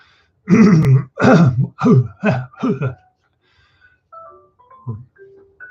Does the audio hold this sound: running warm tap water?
no